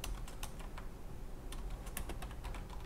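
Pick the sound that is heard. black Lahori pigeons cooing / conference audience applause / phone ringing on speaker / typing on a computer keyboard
typing on a computer keyboard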